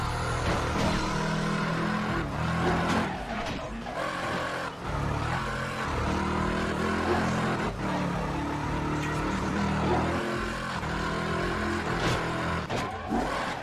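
Game car engine from Midnight Club 3 Dub Edition Remix, a loud sustained roar that rises and falls with repeated revving, gear changes and brief skid-like bursts.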